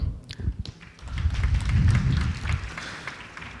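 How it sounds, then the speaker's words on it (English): An audience claps for Bwana Idi at a symposium launch, a swelling burst of many hands that peaks midway and then tapers off, heard from within the hall with no talking over it. "Bwana Idi deserves a better hand clap."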